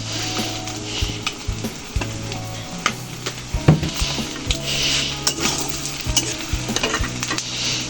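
Noodles frying in a hot pan and being stirred, a steady close sizzle broken by repeated scraping knocks of the utensil against the pan, with no talking.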